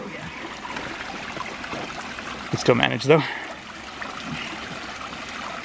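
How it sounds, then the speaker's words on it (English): Water gushes briefly out of an off-grid micro hydro intake pipe, a short splashing pour of about half a second amid quiet outdoor ambience, with people talking nearby. "Water is going to be coming out the other end."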